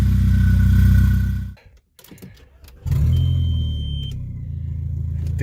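A turbocharged Mk4 VW Golf engine revs loud and close, drops off for about a second, then surges back into a sustained, heavy rumbling roar that continues to the end.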